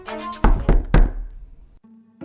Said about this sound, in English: The first sound that we were going to play was a knock on the door.